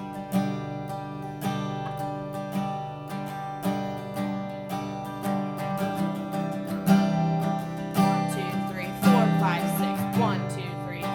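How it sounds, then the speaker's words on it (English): Acoustic guitar strummed in 3/4 time with accents on beats one and four, a rhythmic pattern of chord strokes with regular louder hits, close and clear, with no talking. "But if you're putting accents on 1 and 4, it's going to be like."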